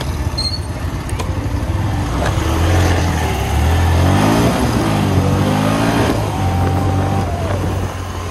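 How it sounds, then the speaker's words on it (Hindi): A motorbike on a highway speeds up, its engine note climbing in pitch through several rising sweeps amid steady wind and road roar, loud and close throughout. "फटाफट से अपनी बाइक की गति बढ़ाते हैं और निकलते हैं।"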